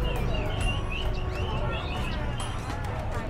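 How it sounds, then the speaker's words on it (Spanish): Grey parrots and other caged birds at an exotic animal market, giving dense overlapping chirps, whistles and squawks amid a busy, noisy crowd with people talking nearby. "Aquí hay loros grises"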